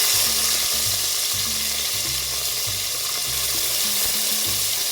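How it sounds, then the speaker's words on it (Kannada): Chopped tomatoes go into hot frying oil for a basale soppu sambar and sizzle steadily, a constant loud hiss with low rhythmic scraping as they are stirred. "ಇವಾಗ ನಾನು ಟೊಮೊಟೊನ ಕಟ್ ಮಾಡಿದ ಟೊಮೊಟೊ ಹಾಕ್ತಾಯಿದ್ದೀನಿ"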